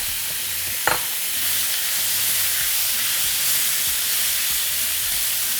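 Two pounds of salted, peppered skirt steak drop into a skillet with a brief knock, then a loud, steady searing sizzle holds close by with no one talking.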